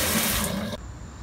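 Water gushes from a tap as soaked containers are rinsed and emptied, a loud splashing rush that cuts off abruptly near the end, leaving a quiet trickle.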